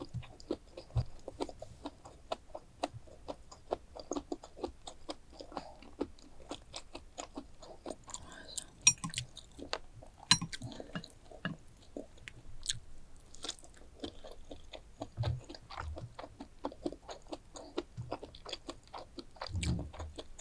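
Close, steady chewing and crunching of an enoki mushroom pancake with carrot, a quiet stream of small bites and moist crunches running throughout with no talk.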